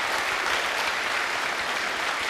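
Dense, steady applause fills a pool championship final hall for the newly crowned winner, loud and continuous throughout with no break.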